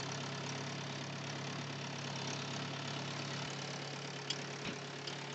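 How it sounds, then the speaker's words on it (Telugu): A tractor engine running steadily after starting, on a farm during turmeric planting: a faint, even low idle hum that continues throughout, with a couple of small knocks and no voices. "ట్రాక్టర్ అయితే స్టార్ట్ అయిపోయింది అన్నమాట."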